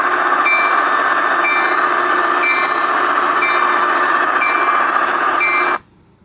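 Custom train horn made for the Trainz game, a loud steady sustained tone held for almost six seconds, with faint periodic high blips, then cutting off abruptly to near silence.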